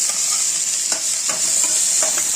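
A steady, loud sizzle of onions frying in hot oil for mutton keema, with occasional scrapes and stirs in the pan.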